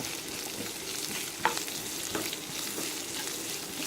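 Onions sauté in a pan for tomato kulambu, giving a steady close sizzle with a few soft stirring scrapes and clicks, no voices.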